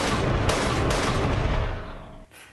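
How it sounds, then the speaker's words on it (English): Heavy gunfire and explosions from an action movie, a dense, loud barrage of rapid shots and booms that fades out near the end. "Oh, lots of shooting."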